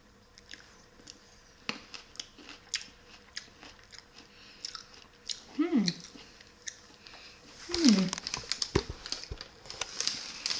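Someone bites into and chews candied cranberries up close, making soft sticky crunches and wet squishes, with some brief vocal sounds mixed in.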